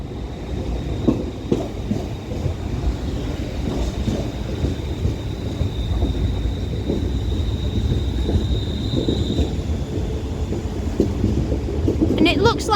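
A British Rail Class 350/3 electric multiple unit at Liverpool Lime Street station, heard as a steady rumble of the train moving through the platform, with a faint high wheel squeal and light clatter, while someone talks briefly.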